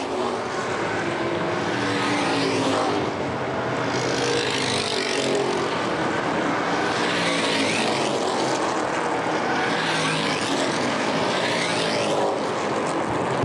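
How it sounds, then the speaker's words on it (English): Street stock race car engines roar continuously on pit road at Winchester Speedway, with rising and falling whines as cars pass nearby, loud and sustained without voices. "Joshua Carroll in the 19 car rolling down pit road."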